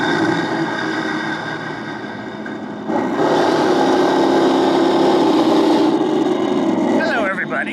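A Tamiya 1/16 full-option British IDF Centurion Mk III RC tank runs outdoors on a test drive, its whirring electric motor and engine-sound unit droning steadily, then growing louder and busier partway through, with no talk.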